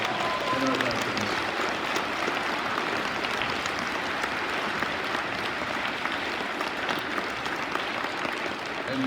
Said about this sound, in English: please give a round of applause to all those that participated in our veterans